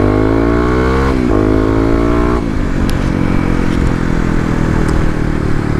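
Kawasaki KLX250 motorcycle engine pulling hard at full throttle in second gear, a loud, close, continuous roar whose pitch climbs and then steps down twice before settling into a steady rasp.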